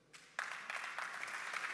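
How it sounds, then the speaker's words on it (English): Audience applause for a moderator at a rail freight event, a faint patter that swells suddenly into steady, fairly quiet clapping from a crowd. "A round of applause also to our moderator."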